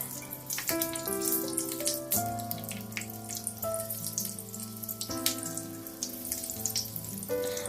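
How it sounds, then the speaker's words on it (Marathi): Stuffed green chillies fry gently in a pan over a low gas flame, a steady soft sizzle with faint crackles running under louder background music throughout. "आता कमी गॅस फ्लेमवरच आपल्याला ह्या मिरच्या छान फ्राय करून घ्यायच्या आहेत"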